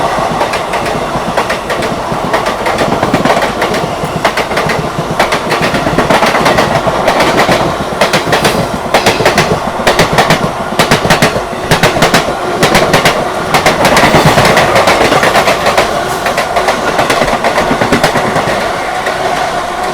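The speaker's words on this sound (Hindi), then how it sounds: "ट्रेन अपनी जो है कानपुर सेंट्रल पहुँच रही है" Humsafar Express passenger train running on rails near Kanpur Central, with a steady loud rumble and repeated clickety-clack of wheels over rail joints throughout, close and continuous with no talk.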